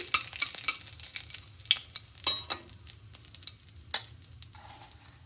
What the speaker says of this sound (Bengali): জিরেটা একটু ভেজে নিচ্ছি।